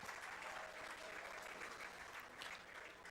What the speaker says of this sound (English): Crowd is clapping